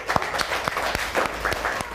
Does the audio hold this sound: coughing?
no